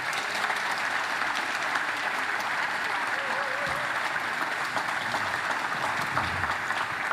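A large audience at the 77th Constitution Day ceremony applauds, a dense, steady wash of clapping that holds evenly for about seven seconds without a break.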